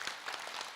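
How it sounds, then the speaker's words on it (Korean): An audience applauds at a Buddhist Dharma talk, a brief, soft patter of scattered clapping heard at a distance. "박수로 맞으세요."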